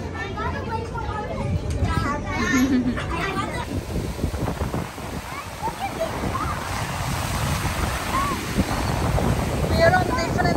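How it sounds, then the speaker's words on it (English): Small sea waves wash onto a beach in stormy weather, a continuous broadband surf roar mixed with heavy wind buffeting the microphone, with a person talking over it at times. "we are on a different beach now, where the waves are not that big, but again, it's bad weather"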